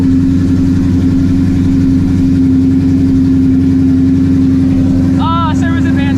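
The deep, loud engine of a modified 800 hp Shelby GT350 V8 rumbles steadily close by at idle, with a short voice heard near the end.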